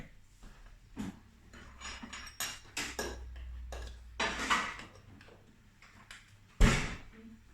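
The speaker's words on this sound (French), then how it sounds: "Je vais sortir la poêle pour les graines." A frying pan is pulled out in a home kitchen for toasting sunflower seeds, giving scattered metallic clanks and knocks of cookware, with one sharper bang near the end.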